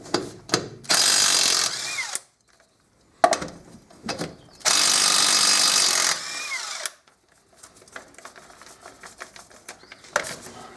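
An impact wrench undoes 17mm wheel nuts on a Fiat Fiorino, firing two long, loud rattling bursts and several short ones. Lighter clatter and handling noises fill the gaps between bursts, with no talking.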